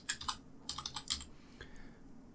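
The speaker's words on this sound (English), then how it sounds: "and then type in sections here." Keys clatter on a computer keyboard in two quick bursts of typing, close and clear, with a few scattered keystrokes afterward and no talking.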